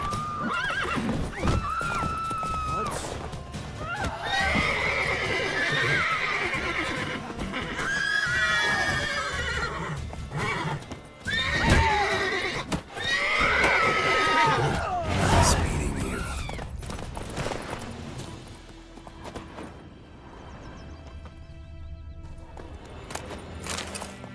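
A horse in The Witcher 3: Wild Hunt whinnies loudly several times over steady clip-clopping hooves, with game ambience and brief voices mixed in; near the end the calls fade to quieter background sound.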